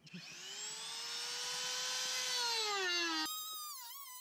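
A power tool cuts through a Jeep fender, giving a loud, steady high-pitched whine with strong overtones that holds for about three seconds, then cuts off abruptly as a rising, wavering tone follows.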